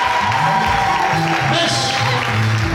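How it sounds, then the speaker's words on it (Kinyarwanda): A church congregation applauds in a Rwandan service, dense continuous clapping from a crowd with voices mixed in, loud and sustained throughout. "reka dukomere yikupa amashyi menshi"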